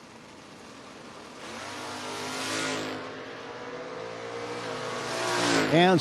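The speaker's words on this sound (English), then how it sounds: "Next pair, the Pinto of Jeremy Paust" At a door car drag racing event, a Pinto and a 1969 Nova race down the strip, giving a loud, sustained engine roar that swells and then rises in pitch near the end.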